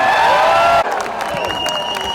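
Crowd applause and light cheering welcome actor Sunny Deol at a song launch event in Jaisalmer, Rajasthan, a moderate, scattered clapping spread behind music that cuts off partway.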